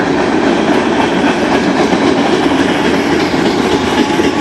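A Norfolk Southern 12R freight train, with a high-and-wide transformer load and a Herzog work train, rolls past close by with a loud, continuous roar of wheels and rumbling cars and a steady clickety-clack.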